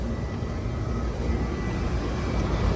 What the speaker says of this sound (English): Compressor pulls in, or contactor pulls in, compressor sounds terrible.